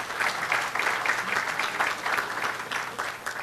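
An audience at an economic development award ceremony in Minas Gerais gives applause, a moderately quiet, uneven patter of clapping that pulses slightly in intensity throughout.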